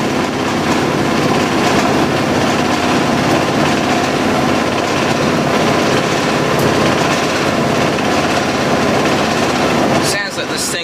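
A Fisher & Paykel Smart Drive GW712 washing machine runs loudly nearby, a dense steady roar and whine that holds throughout and cuts off near the end.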